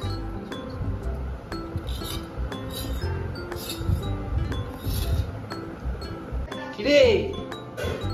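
A metal spoon clinks against a glass or ceramic dish during eating at home, giving sharp, light taps scattered irregularly through the clip, close by, while someone speaks now and then.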